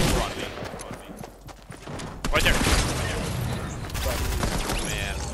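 Fortnite combat with gunfire and a rocket launcher blast, rapid shots followed by a louder, sustained explosion roar in the second half, mixed under a player's voice.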